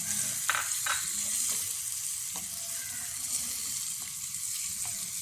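Sliced onion sizzling and frying in a pan for a Kerala mezhukkupuratti dish, with steady broadband hiss throughout and occasional soft scrapes of stirring.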